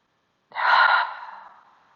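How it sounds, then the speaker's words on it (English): A single deep breath drawn in and let out as a long audible sigh, close and fairly loud at first, then trailing off softly, with no talking. "inhale through your nose. Exhale, sigh your breath away"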